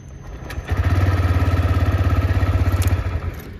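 A TVS Raider 125 motorcycle fires up on its self-starter after a short quiet moment, then settles into a steady, close single-cylinder idle with an even pulsing throb that stays loud until the end.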